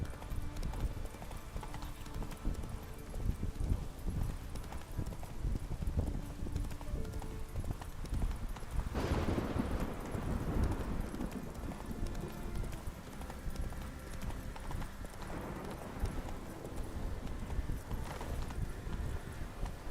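Hooves of the horse Roach clip-clop steadily at a gallop in The Witcher 3, a continuous rhythmic beat throughout with a brief whinny-like swell midway over faint game ambience.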